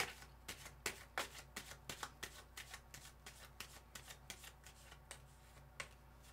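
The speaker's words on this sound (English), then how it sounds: "I'm going to shuffle and pull one more." Rapid riffle shuffles of a tarot card deck, crisp papery bursts repeating steadily, close up, with no talking.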